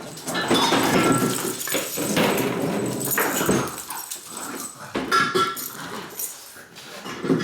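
A dog whimpers and yaps in bursts close by, with busy background noise and brief quieter gaps between the cries.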